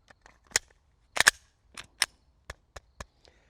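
Handgun rounds fired during a shooting drill on a range, about ten sharp cracks in an irregular sequence, some in quick pairs, moderately loud with short decays and no talking.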